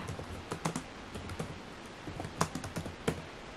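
Typing on an HP Pale Gold 14-inch laptop keyboard produces close, crisp key clicks in quick irregular bursts, with a few louder taps standing out and no talking.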